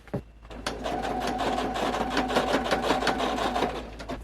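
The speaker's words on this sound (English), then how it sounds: "So I'm just going to sew here and slowly work my way around both sides." Steady whirring hum of a sewing machine stitching fabric for a holiday vest, running continuously at close range with a slight rhythmic pulse and no talking.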